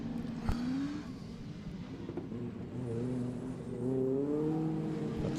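A Mark II rallycross race car inspired by Ken Block's build, at a British Rallycross Championship round at Mondello Park, its engine revving and rising in pitch through several gear pulls at moderate distance, with no voices.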